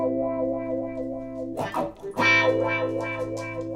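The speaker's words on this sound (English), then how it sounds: "If you click it, you get into wah wah mode." Electric guitar through a Sonicake Flip Wah pedal in wah mode, sustained distorted chord swept in tone, then a fresh strummed attack, close and loud.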